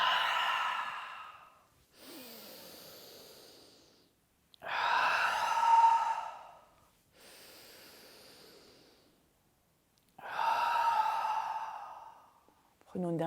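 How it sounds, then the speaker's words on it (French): Three slow, deep yoga breaths, each drawn in through the nose and then released audibly through the mouth. Each breath is a quieter inhale and a louder, sighing exhale, close and unhurried. "Inspirez par le nez. On expire par la bouche."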